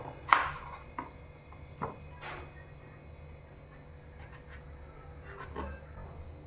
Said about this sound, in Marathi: सर्व साल काढून झाली की तो आता छोट्या मध्यम पीसेसमध्ये कट करून घ्यायचा आहे